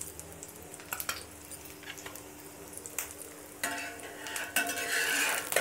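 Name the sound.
omelette frying in oil in a pan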